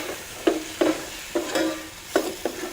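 Seafood stir-fried in a pot for Creole jambalaya, with a low sizzle under a series of sharp scraping strokes of a utensil against the pot, about six in an uneven rhythm.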